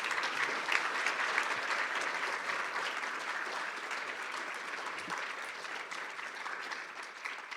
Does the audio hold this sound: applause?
yes